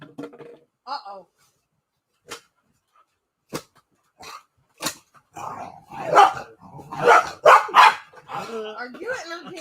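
A dog barks several times, the barks spread out at first and then coming close together, loud and nearby, with people talking around them.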